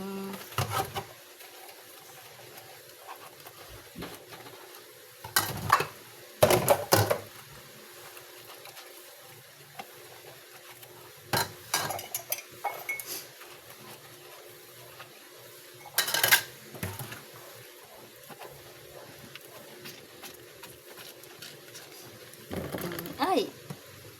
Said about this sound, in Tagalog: Nangugas ako plato guys.